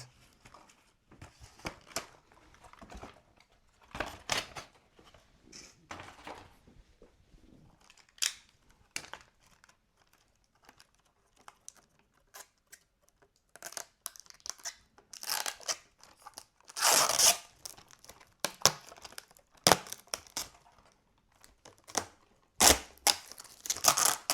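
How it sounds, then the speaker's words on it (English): Snips cut nylon zip ties off the packaging of a 1/24 scale FMS Toyota Tacoma model truck, giving sharp close clicks and snaps scattered among rustling and crinkling of packaging. "Okay, we cut all the nylons here."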